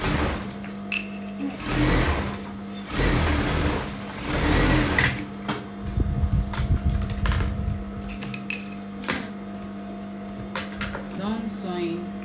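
A sewing machine runs in bursts while stitching the lining of a suit sleeve, a close rapid rattle with a steady motor hum between runs. A person talks over parts of it.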